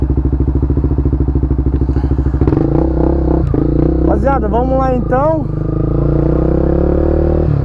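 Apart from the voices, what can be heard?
Honda CB 300F Twister motorcycle with GRS exhaust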